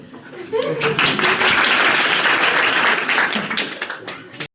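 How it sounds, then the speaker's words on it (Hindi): A class claps and applauds on its last day, a dense continuous patter of many hands lasting several seconds, close and loud, with voices talking and laughing underneath. "मारो ताली।"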